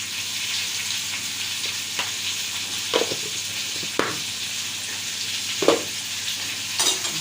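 Mango pieces with turmeric and a little salt sizzle steadily in a frying pan, with a few louder scrapes and stirs of the spoon breaking through the constant hiss.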